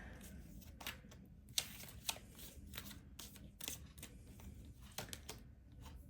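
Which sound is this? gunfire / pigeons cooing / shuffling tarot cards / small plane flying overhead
shuffling tarot cards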